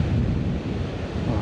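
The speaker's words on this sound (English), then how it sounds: "Oh, the breeze is lovely." Breeze on a coastal hiking path buffets the microphone in a steady low rumble, close and fairly loud, with no talking.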